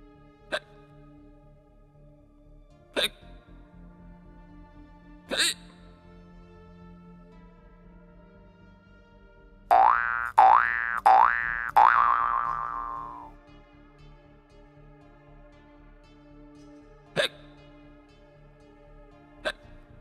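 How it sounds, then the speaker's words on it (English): Cartoonish hiccups from a skeleton in a spooky Halloween kids' story: single sharp hiccups spaced a few seconds apart, a quick burst of four in a row near the middle, then two more isolated ones, alone over quiet background. "Had the hiccups."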